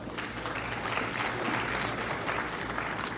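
An audience at a university convocation applauds, a dense steady clapping that fills the hall without pause, with a faint murmur of voices under it.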